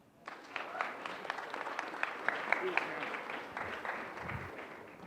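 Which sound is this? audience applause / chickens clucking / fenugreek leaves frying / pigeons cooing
audience applause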